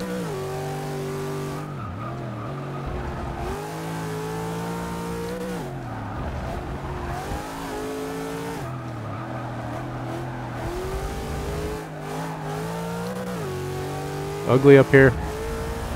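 Nissan GT-R race car in Forza 6 with a steady engine drone that rises and dips through gear changes, a short burst of tire squeal near the end, and someone talking over it throughout.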